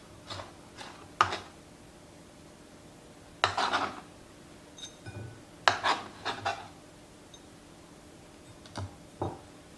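Cilantro being chopped for a meat marinade: irregular, close knife-and-board scrapes and brief rasping bursts, with quiet gaps between clusters and no talking.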